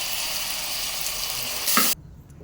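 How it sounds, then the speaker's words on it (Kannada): Basmati rice sizzles and crackles as it is fried in hot oil for fenugreek-leaf rice, a steady close hiss that cuts off abruptly near the end. "ಈ ಎಲ್ಲ ದಿನಸ ಹಾಕ್ಬಿಟ್ಟು ನಾವು ಒಂದು ಎರಡು ನಿಮಿಷ ಅಕ್ಕಿಯನ್ನು ಎಣ್ಣೆಯಲ್ಲಿ ಹುರ್ಕೊಳ್ಬೇಕು"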